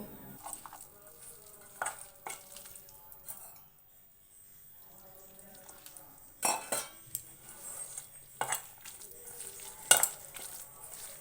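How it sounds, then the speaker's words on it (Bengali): A spoon stirs gram flour (besan) batter with water and chopped chili for cauliflower pakoras, giving close, irregular wet scraping and clinking against the bowl with a few louder knocks. "এবার এটা জল দিয়ে ভালো করে বেসনটা গুলিয়ে নেব"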